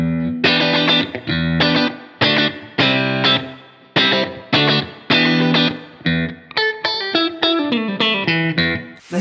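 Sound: guitar through Fender-style spring reverb pedal, mix three quarters

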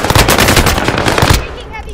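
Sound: heavy gunfire in a battle royale video game

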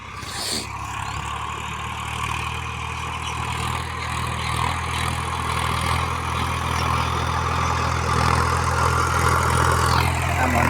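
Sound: tractor engine idling in a farm field

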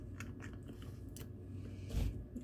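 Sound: chewing a pecan

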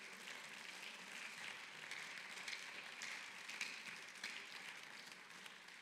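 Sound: congregation applause in church

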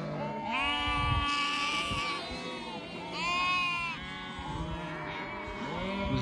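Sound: lambs bleating

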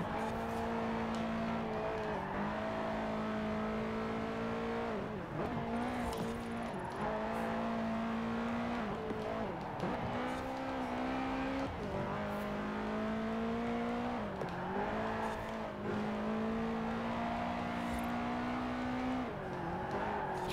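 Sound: Subaru car engine driving in the video game Forza Horizon 4

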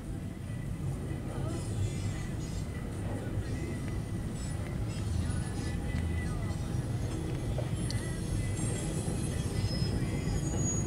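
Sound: intermodal freight train passing

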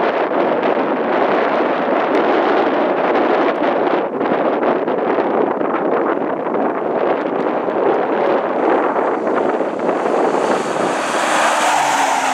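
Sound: racing cars driving wheel to wheel in Caminos del Inca rally

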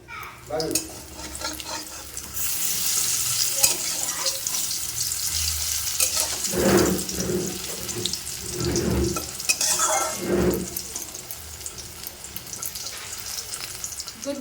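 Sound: pakoras frying in a pan

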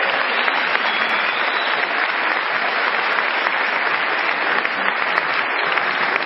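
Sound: audience applause

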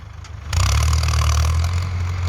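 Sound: Ford 6600 tractor engine pushing soil

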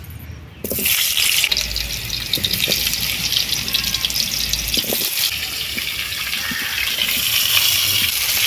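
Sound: cut potatoes frying in oil

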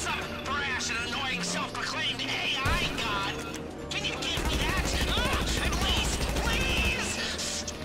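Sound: combat MG machine gun firing in GTA V Online video game

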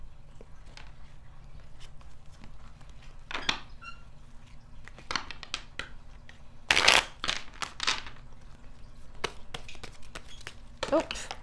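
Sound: tarot cards being shuffled

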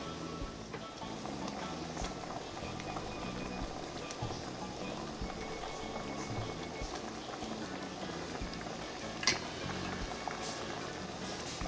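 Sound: coconut milk boiling in a pot

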